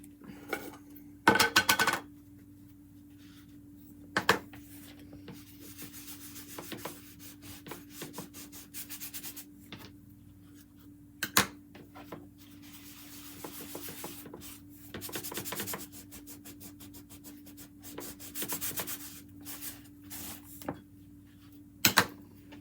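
Surface wax rubbed by hand onto a chalk-decorated wooden piece, soft scuffing strokes in short bursts with pauses, fairly close and quiet against a steady low background hum.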